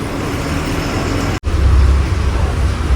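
An MSRTC BS-6 bus rolls through road traffic near Ghodbunder, a steady loud engine and road rumble with a brief dropout partway, then continuing heavy low drone.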